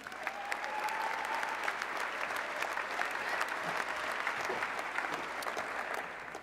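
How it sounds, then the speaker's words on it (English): A crowd at a Hall of Fame event applauds an inductee, steady sustained clapping from a large audience heard at a moderate distance, without a break from start to finish. "Let's hear it for Rick Pitino."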